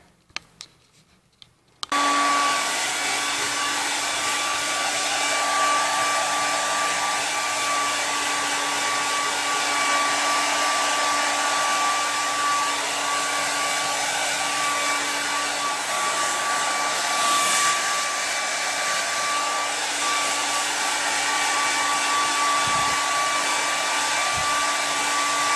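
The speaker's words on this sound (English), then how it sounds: "I'm getting ready to blow dry her." Hair dryer blowing a dog dry after a bath, switching on after a couple of seconds of quiet and then running as a loud, steady, continuous whir close by, with no talking.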